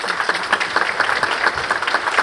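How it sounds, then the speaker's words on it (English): Audience at a keynote talk on fair chance research clapping, a dense burst of many hands at close range, brief and uniform throughout. "Please give her a round of applause."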